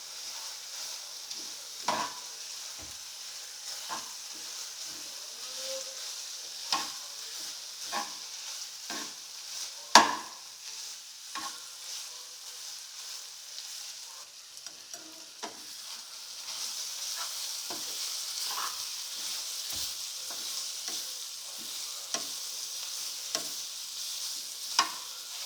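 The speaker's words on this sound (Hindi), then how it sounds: "तो दोस्तों अब हम इसको अच्छे तरीके से मिक्स कर लेंगे।" Sandwich filling being mixed in a pan, a soft low sizzle under repeated scraping and tapping of a utensil against the pan, irregular stirring clicks over the whole stretch, no voices.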